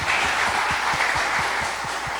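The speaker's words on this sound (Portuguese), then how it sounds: "Uma salva de palmas." Crowd applause at a spiritual gathering honoring Mãe Flávia Pinto, a steady wash of clapping from many hands, fairly loud and continuous for a couple of seconds with no voices over it.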